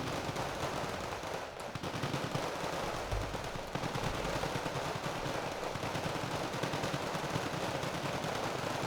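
Vickers and Leopard 1 tanks exchange fire in the Wargame: Red Dragon strategy game, a dense, continuous rattle of rapid gunfire with a few heavier thumps, loud and unbroken throughout.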